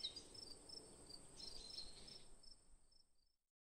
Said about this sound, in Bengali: শুধু পাখির ডাক আর ঝিঝি পোকার শব্দ